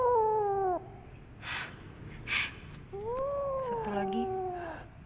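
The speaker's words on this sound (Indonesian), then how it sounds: "mau kasih makan kucing Rizky yang aku dapatkan tadi" Cats meowing up close, two long drawn-out wailing meows separated by a pause, with faint rustling and short breathy noises in between; no talking.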